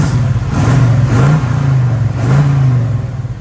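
A 1968 Chevy Camaro convertible V8 with Flowmaster exhaust, loud and close, rumbling deeply and rising through repeated revs with a throaty burble between them.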